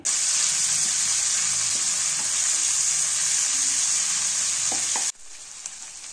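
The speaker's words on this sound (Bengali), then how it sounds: "এই পেঁয়াজগুলোকে হালকা ভেজে নিতে হবে।" Loud, steady sizzling of chopped onions frying in a hot pan for several seconds, then abruptly dropping to a quieter bubbling.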